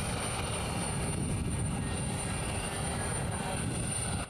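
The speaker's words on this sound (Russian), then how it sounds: "Военно-транспортный самолет Ил-76 приземляется на аэродром Воронежского авиазавода." An Il-76 military transport plane lands at the Voronezh aircraft plant airfield, its engines producing a loud, continuous broadband roar with a high whine that stays steady throughout.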